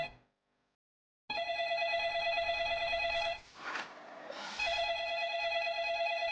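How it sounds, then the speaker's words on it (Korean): A loud electronic telephone ring trills steadily, pauses briefly, then resumes, close and prominent with no talking. "누가 전화 좀 받지?"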